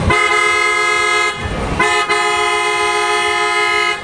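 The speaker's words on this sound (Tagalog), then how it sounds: "Ayan po ang combination ng dalawang horn" A loud, blaring sound of two car horns combined, sounding continuously, two tones blended into one chord, with a brief dip in the middle before resuming at full strength.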